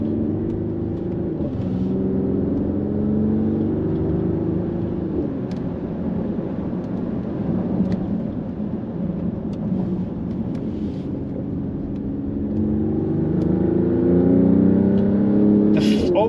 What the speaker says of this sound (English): heading down our favorite twisty road